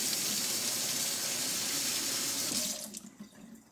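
Hot tap water runs steadily into a kitchen sink while carrots are rinsed, a close, even hiss that cuts off near the end and leaves faint drips and handling sounds.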